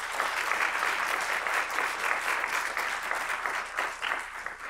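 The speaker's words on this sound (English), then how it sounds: "Hand of applause, please." Steady audience applause for panelists at a mental health and addiction recovery conference session, a dense, even round of clapping from a seated crowd lasting several seconds.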